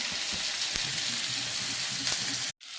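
Ginger-garlic paste frying in a pan for a bhetki fish-bone curry, producing a steady, close sizzle with light stirring taps that stops abruptly near the end.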